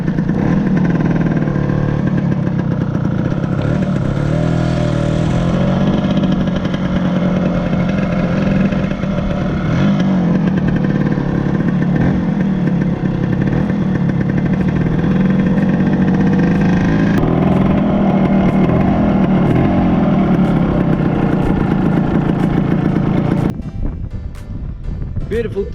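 A Lambretta scooter rides along on a sunny road near Gibraltar, its small engine buzzing and shifting pitch under heavy wind rush, with someone talking over it before the engine note drops near the end.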